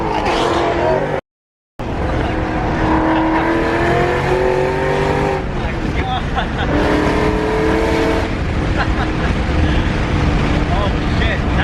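Supercharged Shelby GT500 street car accelerating hard, a loud engine roar with rising and falling tonal whine across several pulls, briefly cut out near the start, with people talking over it.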